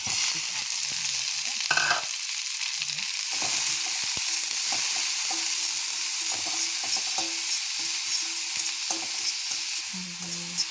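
Onions frying in ghee in a pan for an egg potato patty sandwich, a steady bright sizzle with occasional stirring scrapes and taps, close and continuous with no talk.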